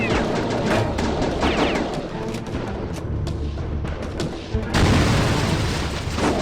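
Gunfire and explosions from a firefight at a gate in the Heavy Fire: Afghanistan video game, booming blasts and rapid shots packed densely throughout, with a louder burst near the end, and voices shouting beneath.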